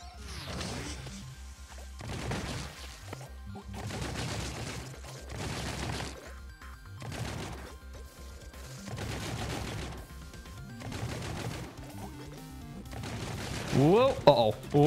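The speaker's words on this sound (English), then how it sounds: "I'm gonna use a grenade." Repeated explosive blasts from grenades and combat in the video game Hive Jump, a series of loud booming bursts spread across the clip, dense and chaotic with gunfire-like crackle between them.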